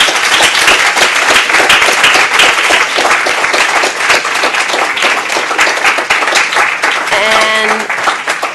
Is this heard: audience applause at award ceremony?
yes